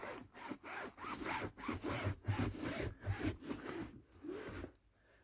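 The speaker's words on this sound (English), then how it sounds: "Use your microfiber cloth. And what you do, rub it in." Rhythmic back-and-forth rubbing of a microfiber cloth on the interior of a Ford Fiesta Zetec S Black Edition, about a dozen quiet, close strokes with brief pauses between them, no talking.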